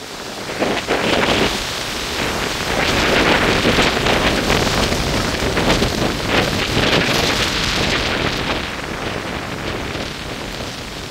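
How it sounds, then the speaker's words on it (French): Powerful wind gusts from a storm gust front roar loudly against the microphone, a dense continuous rushing that swells and stays strong for most of the stretch with no voices. "Franchement hallucinant les rafales qu'il y a."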